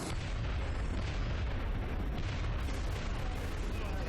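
Explosion blowing apart cover in XCOM: Enemy Within, a dense, sustained roar of rumbling blast noise and crackling debris filling the whole moment at steady high loudness.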